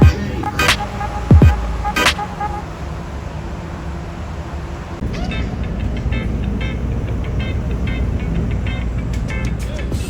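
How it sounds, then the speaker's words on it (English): Steady rumbling of a metro train in Doha, heard from a first-class carriage, with clattering and short sharp tones at the start, continuing as a broad noisy roar under faint voices. "The train's just here."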